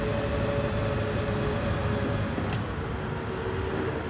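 Chevrolet Corvette CX-R VGT in Gran Turismo 7 running with a depleted battery, giving a steady, loud mechanical drone with a constant whine throughout and a brief sharp transient near the end.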